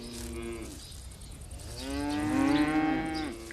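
Grazing cattle moo in an open pasture, with a short low call first and then a longer, louder drawn-out moo close by. No voices.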